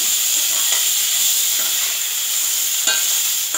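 Crab legs tossed into a pan for a Tamil crab soup, giving a loud steady sizzle and hiss of frying, with faint scraping strokes as they are stirred.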